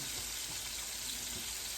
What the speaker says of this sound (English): And I am deep frying them.